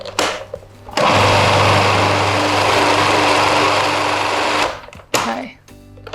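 A blender whizzes potato starch, lemon juice and cider vinegar in one loud, steady run of about four seconds, close up, then cuts off, with brief talk before and after.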